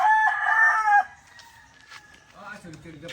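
A fighting cock crows loudly and close, one strong drawn-out call fading in the first second, then quieter clucking and faint talk behind it.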